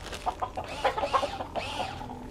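Chickens cluck indoors in a room, a short run of close clucks and soft squawks in an irregular rhythm, with no talking over them.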